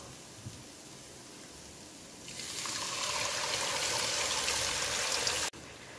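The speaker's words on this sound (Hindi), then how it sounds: "अब मैं इसके अंदर पानी शामिल करूंगी" Water is poured into a pan of roasted fig halwa, starting as a quiet trickle and swelling into a steady, close pouring rush that cuts off abruptly near the end.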